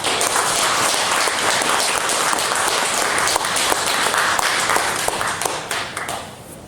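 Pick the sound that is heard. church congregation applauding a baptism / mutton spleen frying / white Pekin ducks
church congregation applauding a baptism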